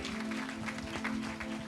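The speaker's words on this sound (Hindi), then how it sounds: "आइए ताली बजाएं और प्रभु को महिमा दें।" A church congregation at a Thursday prayer meeting clapping along in rhythm, a faint steady patter of hands with a low hum underneath, no speech.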